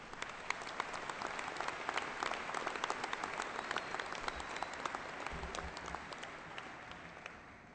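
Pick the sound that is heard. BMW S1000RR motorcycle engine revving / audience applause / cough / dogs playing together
audience applause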